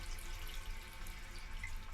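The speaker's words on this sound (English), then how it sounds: "Instead, you just use the shower head to get water." Water runs steadily from a shower head into the small sink of a first-class sleeper cabin on a night train, a soft continuous hiss and patter with a low rumble underneath and no voices.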